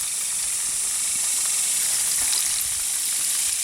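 Chicken wings fry in oil in a Hungarian mess kit, a steady, close, bright sizzle and hiss that runs unbroken throughout with no talk.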